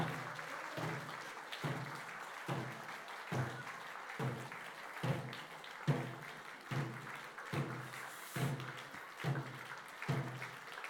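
A church congregation clapping in unison at a worship service, a steady rhythmic beat of about one clap per second, with music and voices faintly underneath.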